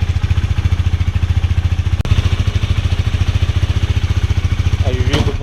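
A KTM Duke 390 single-cylinder motorcycle engine runs steadily in first gear with the rear wheel turning, giving a loud, close, even pulsing thrum with a brief clank near the middle and a clatter at the end.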